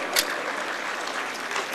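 Quiet, steady applause from a concert audience welcomes a singer at a Bukharian community event, a soft continuous patter of hands heard from some distance.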